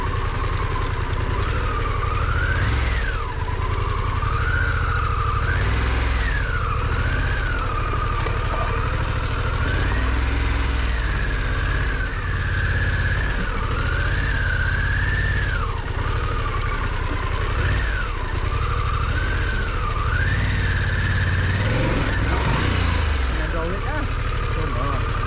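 A Harley-Davidson Pan America 1250 motorcycle engine drones and revs continuously while it is ridden over a small bank at an adventure riding centre, rising and falling steadily and loud throughout.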